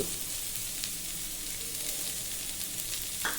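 Carrot pieces and beans drop into a hot frying pan while cooking vegetable rice, giving a steady, close hiss of sizzling oil with a faint stir near the end.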